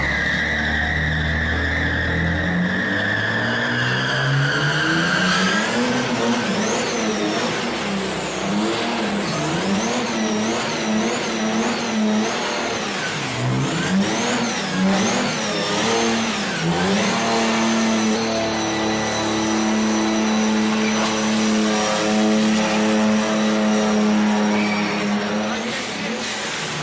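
A turbocharged truck does a burnout, its engine revving hard and loud while tires squeal continuously for nearly half a minute, the pitch rising and dipping with each throttle push.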